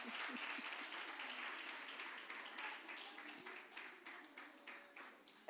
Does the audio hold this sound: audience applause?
yes